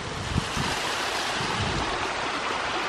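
Water rushes steadily at the top of a waterfall in rocky schist country, a continuous broadband roar that stays even and unbroken throughout, with no voices.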